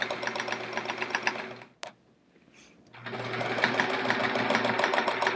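A sewing machine stitches rapidly during free-motion swirl quilting, driven by a fast foot pedal, giving a steady, close, loud mechanical whir that stops abruptly for about a second before the stitching resumes at the same pace.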